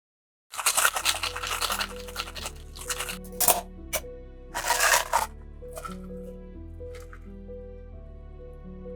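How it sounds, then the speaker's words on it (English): Lemongrass and green Thai chili are muddled for a spicy cocktail, a series of close, wet squishing presses and grinding bursts in an uneven rhythm over soft background music. "Like the others, I'm going to muddle everything up."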